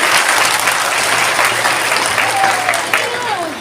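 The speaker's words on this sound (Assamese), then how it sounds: "আমি সকলোৱে হাত তালিৰে তেখেতক বোকাখাতলৈ স্বাগতম জনাওঁ" A crowd at a public event in Bokakhat applauds the chief minister with loud, sustained clapping that fills the whole stretch without letup.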